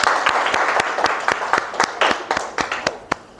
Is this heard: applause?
yes